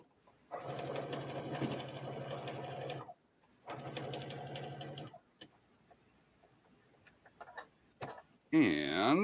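A sewing machine stitches a 5/8-inch seam on a welt pocket of a denim bomber jacket, running in two loud, dense bursts with a short pause between. Then come quiet handling clicks and a brief voice at the end.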